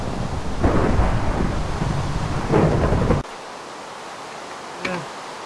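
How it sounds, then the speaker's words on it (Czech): A raging storm at sea, with heavy rain and rolling thunder forming a loud, dense roar that suddenly cuts out, followed by a faint distant rumble and a brief thud. "To je strašná bouře, to asi nepřežijeme."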